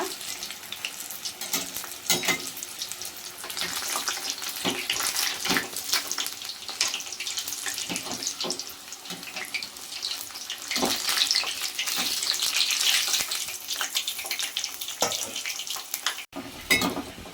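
Mirchi bajji, chillies in gram-flour batter, fry in hot oil with a dense, continuous crackling sizzle close up, steady and fairly loud throughout, with a few scrapes of a spoon and no voices.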